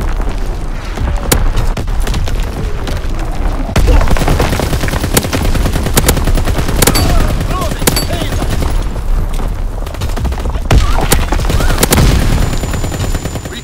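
Heavy, continuous combat from Call of Duty: WWII domination on the Shipment map, an artillery barrage under way, with repeated booming blasts and sharp gunfire cracks packed densely together and loud throughout.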